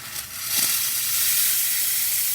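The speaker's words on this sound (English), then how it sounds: "Nice strong steam." Steam wand on a freshly serviced La Pavoni espresso machine hissing strongly, a loud, steady high-pitched rush that builds quickly after a short sputter and holds continuously.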